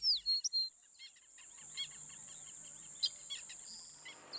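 Birds call in Ranthambore park in India, with a few bright, close chirps at the start, then faint scattered calls over a steady insect and cricket drone.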